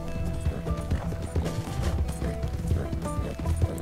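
Horse hooves clip-clopping at a steady riding pace in Red Dead Redemption 2, a continuous close rhythm with game ambience and faint music beneath and no speech.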